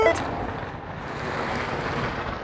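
Steady rushing wind buffeting the microphone, a continuous low roar throughout.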